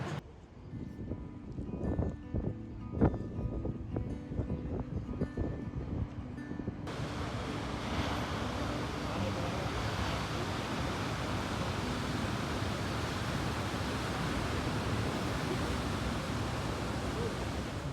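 Big Atlantic surf at Nazaré, Portugal, a roaring wash of breaking waves that becomes a continuous heavy rush buffeted by wind noise, with clattering handling sounds up close early on.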